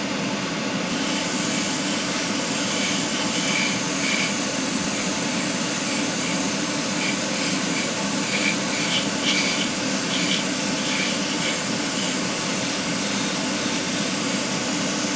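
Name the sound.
dual action airbrush spraying clear coat on model car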